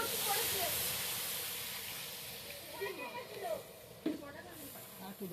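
Water poured onto hot fried spices and potatoes in a pan for a katla fish curry, giving a steady broad hiss that fades, with a few faint clinks near the end.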